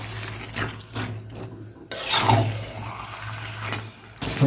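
Chicken for curry being stirred and browned in a pan, with rough scraping and rubbing strokes of a spoon through thick masala over a low sizzle, coming in uneven bursts.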